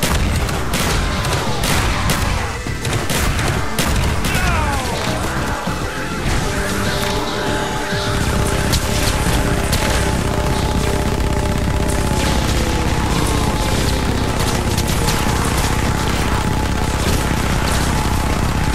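Dense, continuous gunfire and booming blasts from Call of Duty: Black Ops zombie mode fill the whole stretch, loud and relentless with no pauses.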